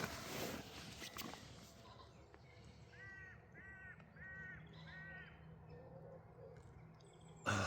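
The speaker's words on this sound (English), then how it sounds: "listening to the crows going mental" Crows caw outdoors in a series of four harsh, evenly spaced calls at moderate distance over quiet ambient background, with a few faint rustles and thumps nearby.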